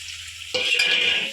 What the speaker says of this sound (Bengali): দিয়ে ভালো করে মশলাকে কষিয়ে নেব